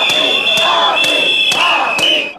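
A loud crowd of municipal employees shut outside a council room chants, shouts and bangs in rhythm, with a shrill whistle or horn tone held throughout. The noise is dense, continuous and close, and regular thumps fall about every half second.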